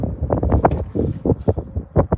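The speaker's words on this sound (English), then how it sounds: "it's windy" Gusty wind blows across an outdoor microphone on a farm, uneven low-pitched bursts and rumbles swelling and fading over a couple of seconds with no speech.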